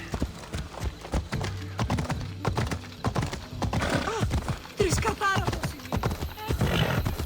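Horse hooves gallop in a steady clip-clop rhythm while riding in Assassin's Creed Odyssey, loud and close, with voices and other game sounds layered over the hoofbeats and a brief whinny.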